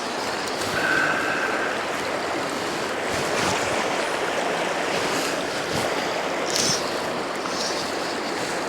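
Steady broadband rush of river current on the Cowlitz River during steelhead fishing, continuous and close with wind buffeting the microphone, no talk over it.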